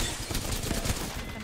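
Dense, continuous gunfire in the Apex Legends game, rapid overlapping shots forming a loud, unbroken barrage throughout the short moment.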